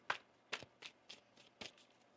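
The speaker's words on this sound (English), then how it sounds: "One more shuffle." Tarot cards are shuffled by hand at a reading, producing a run of soft crisp riffling bursts roughly every third of a second, close and quiet with no talk.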